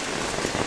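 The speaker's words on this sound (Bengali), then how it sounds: "আজকে আমাদের এখানে অনেক বৃষ্টি" Heavy rain in Kaharol, Dinajpur district, falls in a steady, dense patter of drops on surfaces, heard alone and fairly close for under a second.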